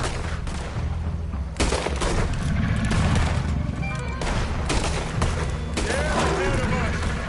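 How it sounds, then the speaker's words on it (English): Gunfire in the Western video game Red Dead Redemption 2, a dense continuous fusillade of overlapping shots and loud bursts throughout, mixed with shouting voices. "Put every bullet you got in him!"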